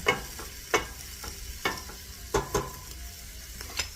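A roux for shrimp étouffée sautés in a pan with a soft continuous sizzle, broken by several sharp stirring scrapes and clinks at irregular intervals, close and fairly quiet.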